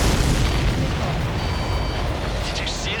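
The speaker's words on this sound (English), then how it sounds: "Did you see that explosion?" A heavy explosion in the combat flight game Ace Combat 7, a deep booming roar that fills the clip and rumbles on with a faint whine of aircraft above.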